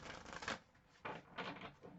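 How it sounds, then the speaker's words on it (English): Tarot cards being shuffled by hand, two or three close, papery riffling bursts separated by short pauses, quiet and with no talking. "Let's do a shuffle, another shuffle."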